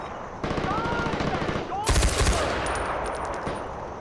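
Rapid machine gun fire in Far Cry 4 rattles steadily from mid-clip onward, with a heavier burst of close gunshots and booms near the middle, mixed with battle ambience.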